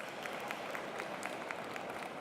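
An audience at the 2017 NMSDC conference luncheon claps in a brief, even round of applause that sounds somewhat distant, with many hands blending into a steady patter.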